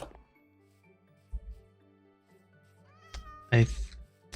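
A game cat meows once, close and loud, after a short rising call, over quiet background music and a low tonal drone.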